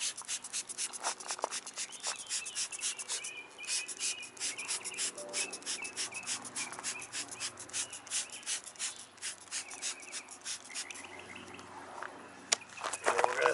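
Purple Power degreaser goes onto a car subframe in a quick, rhythmic run of close, wet spritzing and rubbing bursts. The bursts keep a steady pace throughout with no talking.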